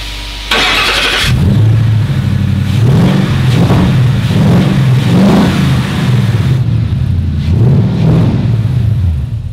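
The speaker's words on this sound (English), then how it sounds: "this is the Bosch 302 version of the Coyote engine, and we have it running" A Ford Coyote V8 engine (Boss 302 version) runs loud and close, revving up in repeated throttle blips over a deep, rumbling idle after a short burst of noise at the start.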